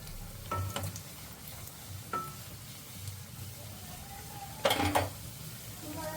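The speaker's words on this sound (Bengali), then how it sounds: "তেলটা গরম হলে আমি রোলগুলো এক এক করে ছেড়ে দেবো।" Chicken rolls frying in hot oil in a wok, a continuous close sizzle with occasional clinks and scrapes of a utensil against the pan, one sharper clatter just before the end.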